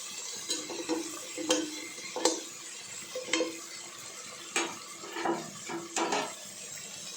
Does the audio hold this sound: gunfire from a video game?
no